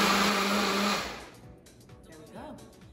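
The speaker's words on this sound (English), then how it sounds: "All right, blending this up. Again, I have my Ninja Ultra Boost food processor and blender" Ninja Ultra Boost food processor and blender whirring loudly as it blends an orange smoothie, then cutting off abruptly after about a second, leaving quieter clinks and handling sounds.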